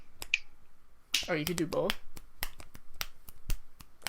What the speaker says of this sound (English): That's a good reverse snap.